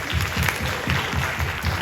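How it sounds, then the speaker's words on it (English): Audience applause for a performer at an anxiety talk event, a steady dense wash of clapping with a rhythmic low thumping pattern underneath throughout. "Please, let's make an applause to Marie-Louise."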